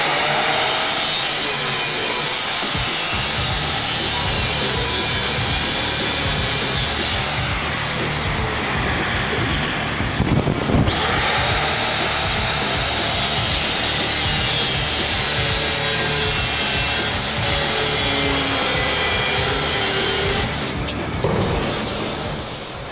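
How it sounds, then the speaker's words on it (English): Twisted iron branches for a welded table frame being cut to size with a power tool: loud, continuous grinding and rasping that runs almost unbroken, with brief shifts in tone as the cut changes. "some of these branches extend past the frame, so I have to cut them to size so I can weld them to the frame"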